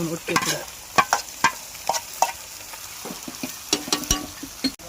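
Chicken curry stirred in a pan, a quick series of spoon scrapes and clacks against the metal over a light sizzle, close and fairly loud, with no talking.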